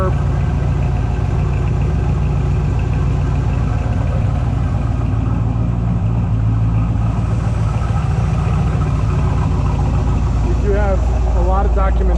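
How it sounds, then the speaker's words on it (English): A freshly rebuilt engine in a 1967 Corvette C2 convertible with a 4-speed idles steadily up close, a smooth low rumble holding even throughout with no revving, while a person talks over it. "Engine just purrs, which you would expect with a freshly rebuilt engine."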